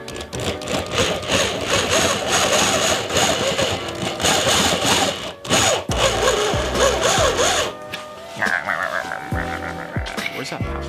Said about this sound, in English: More drilling.